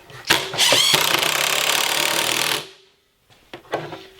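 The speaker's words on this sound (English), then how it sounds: "Take our drill and our screw," Cordless drill driving a screw into wood after countersinking, a loud sustained motor whir for over two seconds that cuts off, followed by a few faint clicks and handling knocks.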